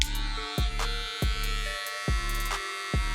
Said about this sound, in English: just keep the clipper moving